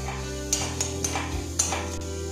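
Cumin seeds and chopped garlic frying in a spoonful of hot white oil in a wok for dahi kofta, a steady close sizzle broken by a few sharp metal clinks of a spoon stirring.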